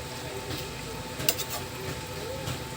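Sardines with sweet potato leaves stirred in a pan, quiet utensil scrapes and a light clink over a faint simmering sizzle, close and soft with no talking.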